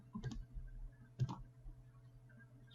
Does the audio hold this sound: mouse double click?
yes